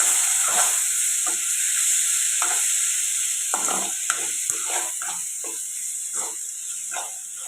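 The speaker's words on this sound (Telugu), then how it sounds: "ఇప్పుడు ఇవన్నీ కలిసేలాగా కలుపుకుందాం" Chicken curry base of tomatoes and spices sizzling in a pan while a spoon stirs and scrapes through it, with steady frying hiss and repeated scraping strokes, close and fairly loud, no talking.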